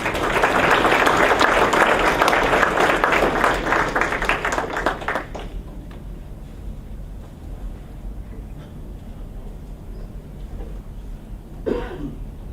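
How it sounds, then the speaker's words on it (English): An audience claps loudly for about five seconds at a sports banquet before the applause stops abruptly, followed by quiet room noise and a brief cough. "So give a round of applause to these two guys."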